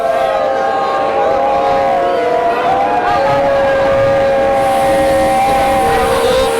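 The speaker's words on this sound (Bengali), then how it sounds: "বেলডাঙ্গা স্টেশনে প্রবেশ করছে এই মুহূর্তে ইনোগাল স্পেশাল ট্রেন" An inaugural special passenger train enters Beldanga station on the Krishnanagar–Azimganj line, a loud, close, continuous rumble with sustained droning tones throughout.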